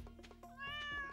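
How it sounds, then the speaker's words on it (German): A short, soft meow from a cat, heard quietly over a faint steady hum and low background sounds. "Ah, da ist meine Katze."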